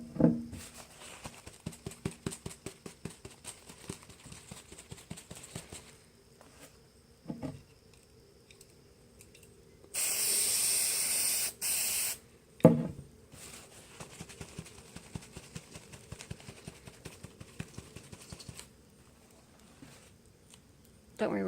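Spray paint hisses onto a Dollar Tree foam pumpkin in one sustained burst lasting about two seconds, close and fairly loud, set between stretches of people talking.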